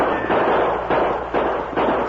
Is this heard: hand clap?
no